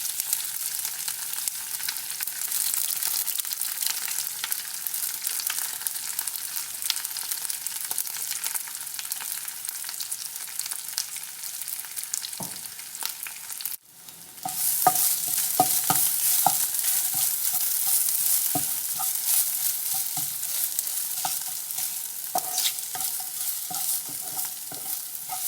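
Crushed mango ginger with green chillies stirred in hot oil in a pan for Kerala-style pickle: a continuous close sizzle with repeated spoon scrapes and stirs, a brief dip midway, then more vigorous stirring.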